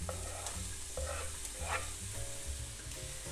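Chopped onion sizzles in a couple of spoonfuls of vegetable oil in a frying pan while a utensil stirs it with steady scraping strokes, close and continuous, with no talk.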